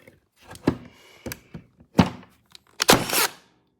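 A cordless battery-powered LINKNAL electric nail gun fires, giving several sharp, close thunks with short gaps, the loudest burst near the end as the nail is driven into wood.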